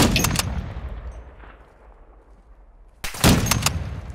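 Sniper rifle shots ring out in Call of Duty: Modern Warfare II co-op on Mt Zaya, a loud sharp crack that decays into a fading tail, then a second burst of gunfire about three seconds later.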